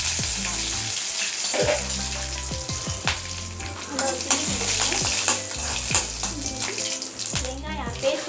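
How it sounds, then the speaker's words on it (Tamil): Cardamom, cinnamon and curry leaves fry in hot oil for a kurma, giving a steady sizzle with repeated stirring and scraping clatter close by, with no talking over it. "கொஞ்சம் ஏலக்காய் பட்டை கருவேப்பிலை வச்சுருக்கேன். இதை போட்டுக்குவோம்."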